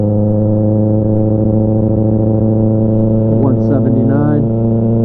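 A motorcycle engine idles with a steady, loud, harmonic drone after an oil change, held close and even throughout, while someone talks over it near the end.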